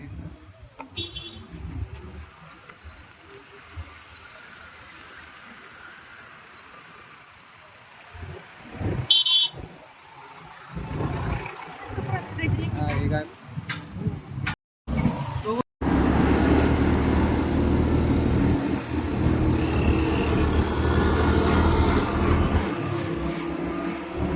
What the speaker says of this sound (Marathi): त्यामुळे ट्रॅफिक दिसायला लागलेली.